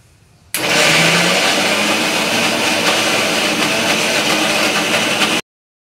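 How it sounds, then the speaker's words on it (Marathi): A kitchen mixer grinder coarsely grinds lentils for phunke, a loud, steady whirring drone that starts abruptly and runs for about five seconds before cutting off sharply. "सर्व डाळी जाडसर वाटून घेतलेल्या"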